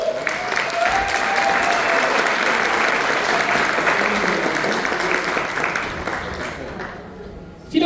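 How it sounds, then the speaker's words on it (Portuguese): Sustained audience applause at a business panel event, loud and steady clapping from a crowd for several seconds before fading out abruptly at the end. "Salva de palmas para Douglas Vilar."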